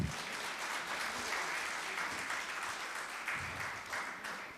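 Audience at a business conference in Mumbai breaks into loud, sustained applause, a dense wash of clapping filling the hall without pause.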